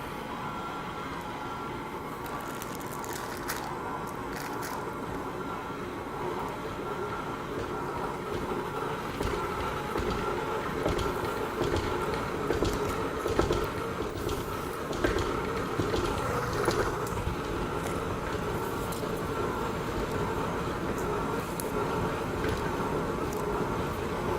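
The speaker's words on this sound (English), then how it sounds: "give the mixer a rip one more time" An electric mixer whirs steadily through shortbread cookie dough with orange juice, a continuous grinding drone with rising and falling texture from the dough, close and alone for about twenty-four seconds.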